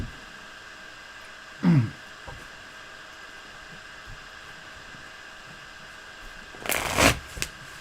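Two short bursts of cards being shuffled, separated by quiet background hiss, the second burst a little longer.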